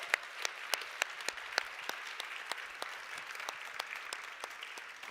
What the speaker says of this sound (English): Can we give them one round of applause more?